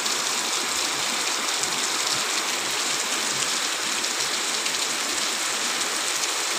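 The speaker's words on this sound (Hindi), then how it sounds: "बहुत तेज बारिश हो रहा है।" Heavy rain pours down steadily in summer, a dense continuous hiss of drops on surfaces, loud and unbroken throughout.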